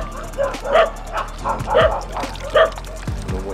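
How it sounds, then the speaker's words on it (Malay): A dog makes repeated short yipping barks in a steady rhythm, close and fairly loud, over a constant background hum with a voice talking faintly. "Tuh namanya anjing gagu-gagu gitu."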